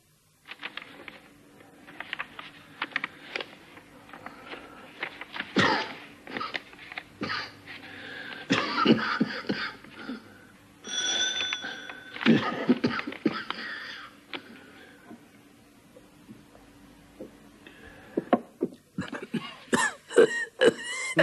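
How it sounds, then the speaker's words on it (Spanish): A person coughs and clears their throat in a 1971 film scene, quiet and close, with hoarse, wheezy bursts that come in irregular clusters separated by short pauses. "No me gusta esa tos. Lleva tosiendo así todo el día."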